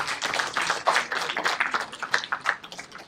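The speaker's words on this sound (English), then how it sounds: "Let's have a huge round of applause." A small audience at a panel discussion on HR claps, with fairly distinct individual hand claps forming an uneven, sparse round of applause that rises and falls over a few seconds.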